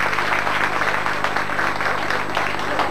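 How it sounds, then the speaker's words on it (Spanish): Steady, dense applause from an audience at a school poetry contest semifinal held in a municipal library, continuous and fairly loud for the whole stretch with no voices over it. "Su nombre y el aplauso generoso de todos ustedes para Ana Paula Duarte"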